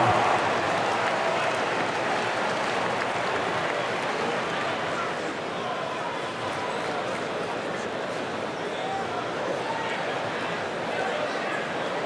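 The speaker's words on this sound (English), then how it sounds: "Fans, please give a big round of applause" Crowd applause and cheering fill an arena in the basketball video game NBA 2K25 during a Golden State Warriors at Los Angeles Clippers match, a dense steady roar throughout with a voice talking over it.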